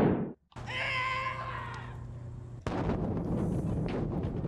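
A bomb goes off in a Philips CD-i lightgun video game, a sharp synthetic blast with a ringing tonal burst that decays into a noisy rumble, followed by a second heavy crash of explosive noise.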